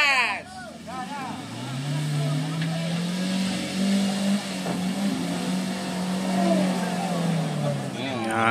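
Vehicle engine revving hard as the driver accelerates, a loud, close, sustained drone that rises and holds with slight wavering, with voices at the start and end.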